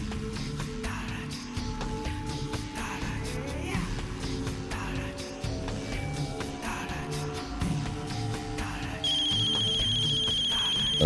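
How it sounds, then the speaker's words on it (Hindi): A telephone ringtone plays a looping electronic melody at moderate level throughout, with a sharper tonal ring joining near the end; no speech is heard over it. "अंसार गुल का फोन है।"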